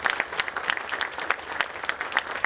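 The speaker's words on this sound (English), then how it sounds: "Can we give them a really big round of applause, please?" A big round of applause for nonprofit workers fills a room at a Chamber of Commerce awards dinner, dense steady clapping from a large crowd, close and loud, lasting throughout without a break.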